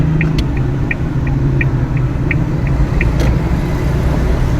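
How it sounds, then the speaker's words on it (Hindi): A car engine rumbles low and steady as the vehicle creeps slowly forward, with a faint repeating ticking clicking along above it at an even pace and no talking. "गाड़ी थोड़ी सी आगे करो।"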